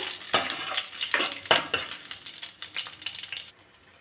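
Byadagi chillies and green chillies frying in a pan for tomato chutney, with crisp sizzling and crackle punctuated by a few sharp stirring scrapes, steady and close, then abruptly cutting to near silence near the end.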